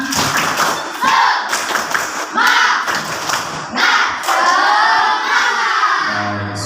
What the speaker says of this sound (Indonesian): Kita tambah tepuk semangat.